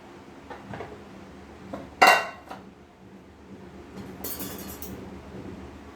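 A cake tin for an eggless honey cake is set into a heated pressure cooker, giving a sharp metallic clank near the middle and a lighter clatter of metal later, with quiet kitchen background.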